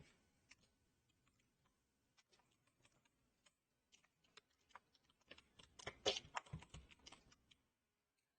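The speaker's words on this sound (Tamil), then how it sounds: "HTML CSS டைப் பண்ணிக்கிறேன்" Computer keyboard typing of HTML and CSS code: faint, scattered key clicks that grow busier and louder toward the end, with a final sharp tap, no voice over them.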